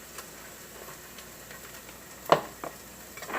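Ginger paste sizzling in a pan, a quiet steady hiss with light ticking and a sharp clack of a utensil against the pan, close and with no talk.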